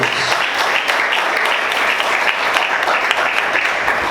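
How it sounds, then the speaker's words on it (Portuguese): Loud, sustained applause from a large church congregation, dense and steady clapping filling the whole stretch without a break. "Aplaude o Senhor bem forte."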